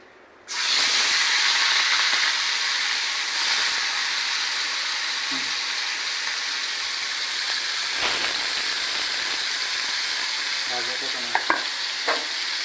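Prawns hit hot oil in a pan and set off a sudden loud, steady sizzle that holds hissing throughout, with a few faint clinks near the end.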